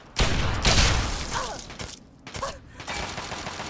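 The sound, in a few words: gunfire from an enemy in the video game Fallout 3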